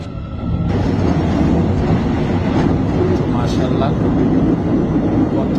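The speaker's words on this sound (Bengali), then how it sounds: "আমি ট্রেনের ভিতর থেকে এটা চিত্র ধারণ করতেছি" Interior of a moving train in South Korea, a loud steady rumble of wheels and carriage with faint rhythmic rail clatter; a voice briefly speaks over it.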